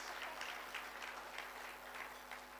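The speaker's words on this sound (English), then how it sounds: "And Madam Chepkwony, don't stop clapping." Breakfast-meeting audience applauding steadily, a dense, even wash of clapping throughout with no voices on top.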